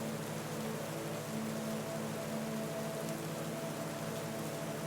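Steady rain falls in Victorian London by the Thames, a dense, even hiss with a low hum beneath, unbroken and fairly quiet throughout.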